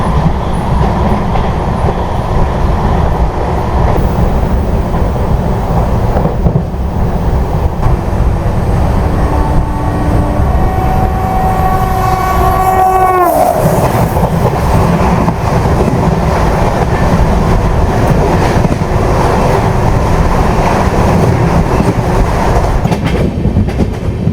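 Netravati Express train passing on the opposite track near Kasaragod, a loud steady rumble of wheels and carriages with brief high metallic squeals midway, heard from aboard another moving express.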